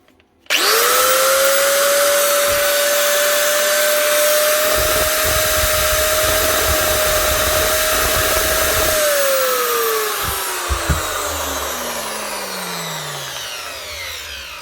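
An old Protool angle grinder runs loud and close at a steady high whine, with a faint irregular popping from the head, then spins down slowly as the motor stops.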